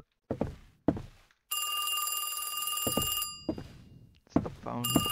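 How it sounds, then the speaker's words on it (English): A telephone rings in a scary video game, its steady bell ring lasting about two seconds between short bursts of someone talking, loud and close. "It's the phone. It is the phone."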